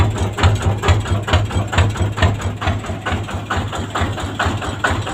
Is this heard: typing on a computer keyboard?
no